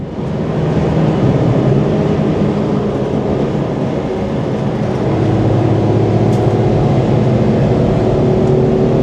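Small Citroen C1 race car lapping a circuit, heard from inside as a loud, steady engine drone with constant road and wind roar throughout, no gear change standing out.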